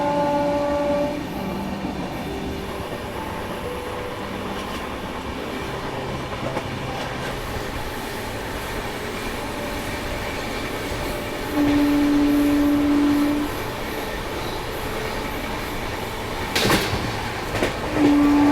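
Sampark Kranti Express passenger train running and slowing down near the Aravalli hills, a steady loud rumble with track noise and a short horn-like tone, then brief clanks near the end, no talk.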